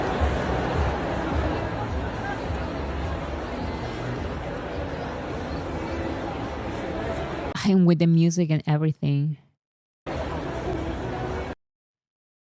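A large crowd of BTS fans waits outside in London for Kim Seokjin, a continuous dense babble of voices heard at a distance, then cut off by a nearby person talking and a brief return of crowd noise.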